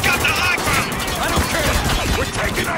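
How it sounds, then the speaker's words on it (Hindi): Rapid gunfire in a shooter game, GTA Online or Spec Ops: The Line, dense and loud bursts mixed with game effects, with voices talking over it. "सीधे ओपन फायर कौन कर रहा"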